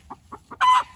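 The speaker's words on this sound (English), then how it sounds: "I put one of my splash lace red Wyandotte hens in there" A splash lace red Wyandotte hen in a chicken tractor coop gives three soft, evenly spaced clucks, then a louder, drawn-out squawking cluck at the end, close by, with no talking.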